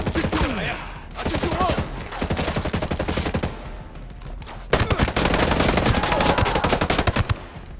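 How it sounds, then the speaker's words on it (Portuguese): Sustained bursts of automatic gunfire and rapid shots from a military shooter game on Xbox One, loud and continuous with short pauses, as one volley ends and a heavier one resumes. "Continue atirando!"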